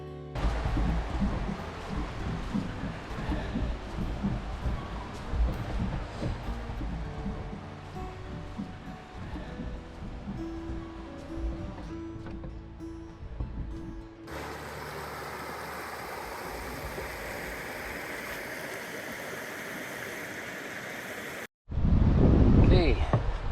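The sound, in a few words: rushing water of small creek rapids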